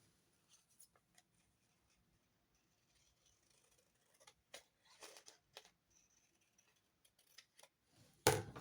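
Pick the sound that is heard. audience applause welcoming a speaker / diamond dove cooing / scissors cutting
scissors cutting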